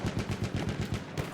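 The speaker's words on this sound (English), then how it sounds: "He wants to be on the machine gun." Machine gun fire in the World War I shooter Battlefield 1, a fast rhythmic burst of about ten close, evenly spaced shots with no talking.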